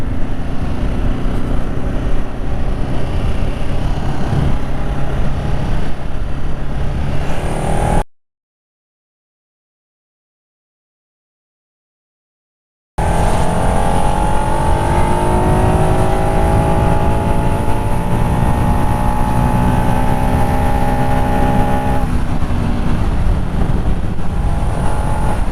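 A 13-year-old Ducati motorcycle engine drones steadily while riding, with wind rushing over the microphone; the sound drops out for about five seconds, then returns with the engine pulling up through the revs.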